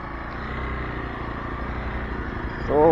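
A motorcycle engine hums steadily and close at an outdoor hill resort in Udalguri, Assam, with a brief voice near the end.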